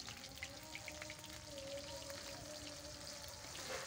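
Sliced onion frying in hot, slightly foaming home-pressed oil with cumin seeds, giving a soft, steady crackle and sizzle like light rain, faint and close, with no talking.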